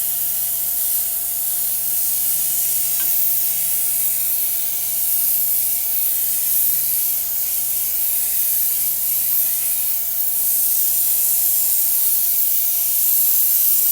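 An airbrush sprays paint for freehand lettering, giving a steady, loud, continuous hiss with slight surges, with no one talking over it.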